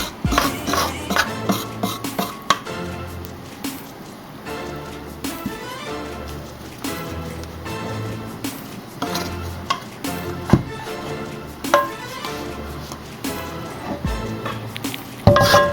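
A utensil scrapes the bottom of a cast iron skillet holding sausage and chicken gumbo, a busy run of close scraping and clanking strokes with a faint sizzle underneath, no voices.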